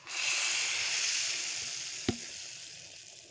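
Hot tempering of mustard seeds and asafoetida hisses into simmering cow bean dal, a broad steady sizzle that swells then slowly fades, broken by one sharp clink near the end, with no talking.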